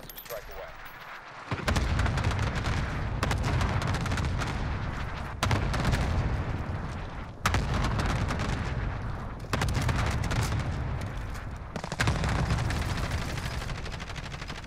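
Heavy airstrike blasts and sustained gunfire in a multiplayer shooter video game, loud dense booms and rattling shots in repeated waves, sharp onsets every couple of seconds, continuous and close.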